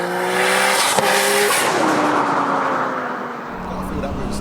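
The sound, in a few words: Nissan R34 GT-R 2.8L stroker engine, boost building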